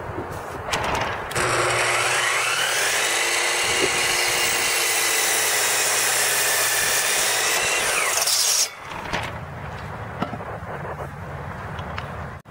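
A saw cuts wood for a workbench leg, a loud continuous grinding rasp lasting about seven seconds, with quieter handling noises before and after.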